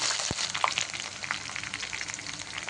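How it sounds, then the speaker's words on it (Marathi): Whole spices, green chili, garlic paste and curry leaves crackle and sizzle in hot oil for a vegetable biryani, a dense close frying hiss with a few sharp pops and no voices. "तेल गरम झाले आता आपण याच्यामध्ये खडे मसाले टाकले हिरवी मिरची टाकले लसूण पेस्ट कढीपत्ता"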